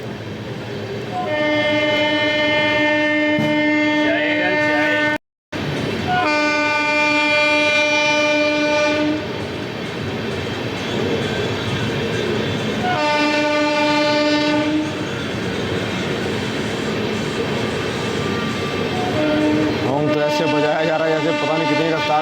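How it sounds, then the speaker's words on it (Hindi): Amrit Bharat Express passenger train on the Gaya–Delhi route slowly passes through Aligarh Junction on the third line, loud and close, sounding its horn in repeated long blasts over continuous rumbling and clacking wheels. "थर्ड लाइन से भाई काफ़ी धीमे रफ्तार में स्किप कर रहे हैं अलीगढ़ जंक्शन।"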